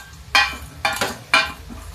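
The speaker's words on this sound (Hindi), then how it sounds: "ये देखिए, इसको भी हम जरा मिक्स कर देते हैं खूब कस के।" Three sharp metal scrapes and clanks of a spoon against a pot as vegetable pulao is stirred vigorously, spaced about half a second apart, close and clear.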